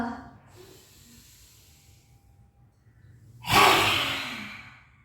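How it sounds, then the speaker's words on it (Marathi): Slow, quiet breath drawn in through the nose during a yoga lion pose, followed by a sudden loud, forceful exhale rushing out near the microphone. "सुरुवात करूयात नाका वाटते श्वास घ्या"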